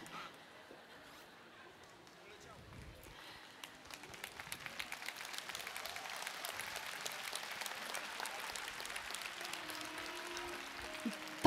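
Applause for the audience at a TFT 2024 talk in Poland, growing from faint scattered claps into steady clapping from a crowd over its second half, with some voice and chatter early on.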